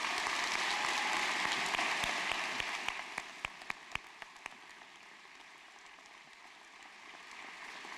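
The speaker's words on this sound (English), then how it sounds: "Let's give a round of applause to all of the audience here today." Loud applause from a crowd at a university mathematics and statistics graduation convocation gradually thins out, leaving a few scattered claps before a softer second swell of clapping returns.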